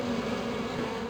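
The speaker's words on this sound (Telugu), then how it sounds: "తేనెటీగలు అటువైపు వెళ్తున్నాయి." A cartoon swarm of bees gives a dense, steady, fairly loud drone that holds at one level for about a second, with no voices over it.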